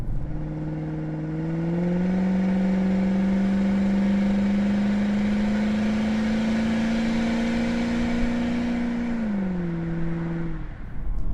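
A 2017 Infiniti M45 V8 sedan revs up from a steady idle, holding a loud, smooth elevated drone for several seconds before settling back down, close and alone with no talking.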